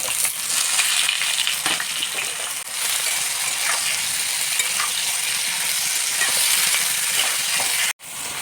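Potatoes and jackfruit sizzle and crackle steadily in hot oil, a continuous close frying hiss with occasional stirring scrapes, and no one speaking.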